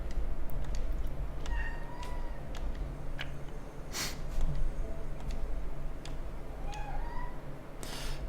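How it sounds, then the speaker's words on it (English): A pet cat meows several times, short clear calls scattered over a steady background hum and game noise, nearby and moderately loud, with no talking. "My cat is meowing."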